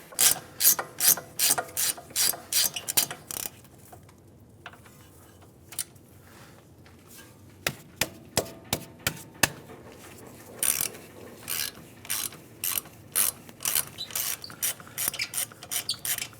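A ratchet wrench clicks in rapid bursts, pausing and resuming, while wheel hub bolts are backed out on a 2015–2019 Hyundai Sonata during a front wheel bearing and hub assembly replacement; close and loud.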